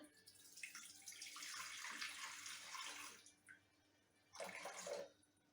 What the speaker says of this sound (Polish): 220 gram wody.